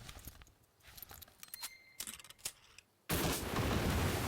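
Scattered gunfire in the WW2 strategy game Headquarters WW2, from the Market Garden expansion: sharp isolated shots and short bursts at first, then a sustained, dense roar of weapons fire near the end.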